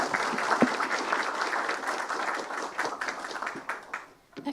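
Audience applause at a policy forum on the EU's Indo-Pacific strategy, a steady wash of many hands clapping that stays full and close before thinning and tapering off near the end.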